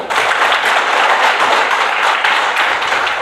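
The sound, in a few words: hand clapping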